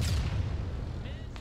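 An anti-tank weapon fires in a military shooter video game with a deep, rumbling boom that lingers and fades briefly while voices talk over the radio.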